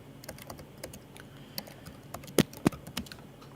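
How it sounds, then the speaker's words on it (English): Computer keyboard keys clicking during typing, a quick irregular patter of taps close by with a few louder, sharper strokes near the end, no voices. "Sorry about the keyboard clicking."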